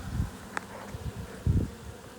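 Honey bees buzz around an open hive frame of drone brood with pollen, bee bread and honey, several close droning passes rising and fading, with one sharp nearby buzz and no talking.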